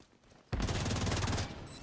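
A sudden, loud, rapid burst of automatic gunfire erupts in The Division 2, hammering continuously for about a second before cutting off, close and harsh with no talk over it.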